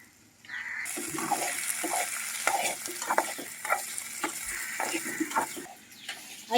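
Green chillies, curry leaves and potato pieces sizzle steadily in a hot pan, with repeated scraping and clinking as they are stirred, close and moderately loud throughout.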